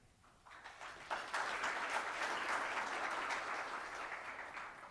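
Audience at a conference welcome session breaks into applause, starting faintly then swelling into a steady, full round of clapping that holds to the end, with no talk over it.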